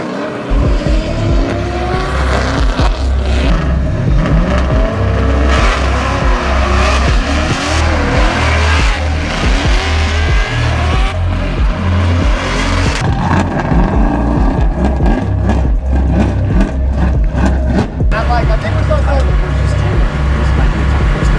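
A drift race car roars loud and close at full throttle, its engine revving hard with bouncing pitch and tire squeal throughout, ending in a harsher rev.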